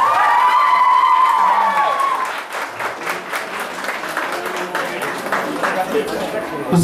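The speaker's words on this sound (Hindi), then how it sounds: "तालियों से स्वागत होना चाहिए।" An audience at a school teachers' award ceremony in Chamba applauds to welcome a guest onto the stage. A voice speaks first over a microphone, then dense clapping from a crowd swells up and continues steadily.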